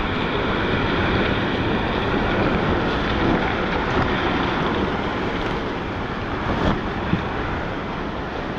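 Strong wind and waves roar around a 1974 O'Day Mariner 19 sailboat as a constant loud, broadband rush. Gusts buffet the microphone, with a faint knock near the end.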